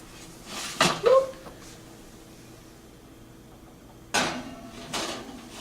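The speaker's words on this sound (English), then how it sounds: "I'm going to put this back in the oven." A dish clatters against an oven rack as it is slid back in for broiling, a couple of metallic clanks up close, then a quiet hum before the oven door bumps shut with another thud and rattle.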